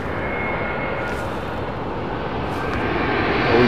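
A jet airliner arriving overhead at London Heathrow roars loudly and steadily, its engine rumble close and building slightly toward the end, with no talking heard.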